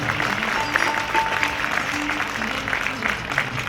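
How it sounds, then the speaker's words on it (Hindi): Audience applause at a fair stage event in Farrukhabad, a moderately loud wash of clapping running steadily throughout, with faint background voices and tones underneath. "एक बार जोरदार तालियां हो जाए।"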